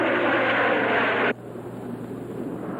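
Aircraft from a 1966 Japanese monster film roar as a loud, broadband engine drone that cuts off abruptly partway through, leaving a quieter steady rumble.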